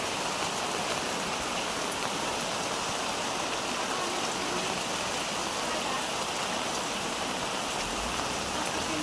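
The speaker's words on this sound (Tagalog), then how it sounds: "Ayan, baha na din dito sa amin sa bukid." Heavy rain and rushing floodwater in a flooded mountain farm area, a steady dense broadband wash of water that continues without pause, with no voices in the foreground.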